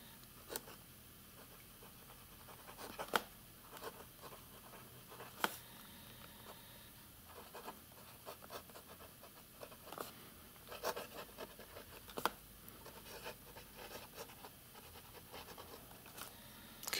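A Lamy 2000 fountain pen nib writes on coarse paper that is unfriendly to fountain pens, giving faint close scratchy strokes and small ticks in irregular bursts over a quiet room.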